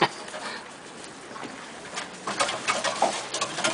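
Pigeons in a loft fitted with a darkening system give faint cooing and flapping scuffles that grow busier toward the end. The sounds stay soft and sit in the background.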